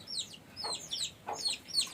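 Domestic chickens and a large rooster in a village backyard coop give quick, soft clucks and short squawks in an irregular scatter at moderate distance.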